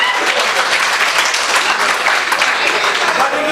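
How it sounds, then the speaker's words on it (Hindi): Audience applause at a mushaira poetry gathering, a loud, continuous wash of clapping from many hands sustained evenly throughout. "एक जोरदार ताली इनके लिए बजा दी"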